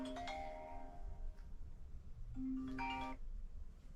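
A mobile phone rings with a short electronic melody, two brief bursts of tones separated by a pause, sounding faint under steady background noise.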